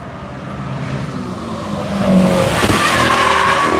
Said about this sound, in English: Here comes the Michelin Corvette. Getting the grip out of those Pilot Sport All Seasons.